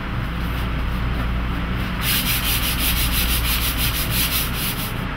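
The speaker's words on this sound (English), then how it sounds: "we're going to continue the installation process with a light sanding." Light hand sanding of set drywall mud around a recessed in-wall speaker install, a continuous scratchy rubbing that grows louder and more rhythmic halfway through, with back-and-forth strokes, no talking.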